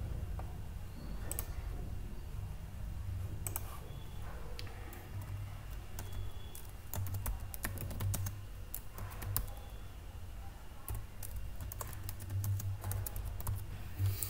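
Keys on a computer keyboard are tapped in quick, uneven runs of clicks over about fourteen seconds, close and moderately loud against a low steady hum, with no voices.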